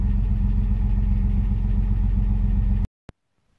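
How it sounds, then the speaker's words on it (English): A Bitter SC car engine with Bosch L-Jetronic injection idles fast and loud after a cold start near freezing, a steady low rumble that cuts off abruptly, followed by a single sharp click and silence. "You see the car starts right away and it does the same thing at negative 3 degrees centigrade"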